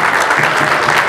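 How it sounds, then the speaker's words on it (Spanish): Loud, steady applause from an audience fills the whole moment, honoring the chefs at a Peruvian food fair, dense clapping without a break. "Un aplauso para ellos, por favor."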